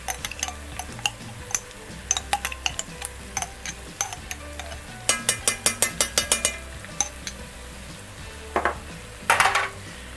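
Curry paste and tomato paste being stirred in a frying pan, with a quiet sizzle under a steady run of sharp scraping and tapping strokes, busier and louder toward the end, no talking.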